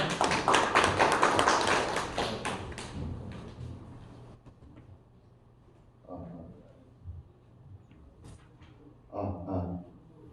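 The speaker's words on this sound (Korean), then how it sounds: "박수로 환영 부탁드립니다" At a startup pitch party in Pangyo, an audience claps to welcome a presenter. The applause is loud and dense for the first few seconds, then fades away into quiet, with scattered small knocks and sounds afterward.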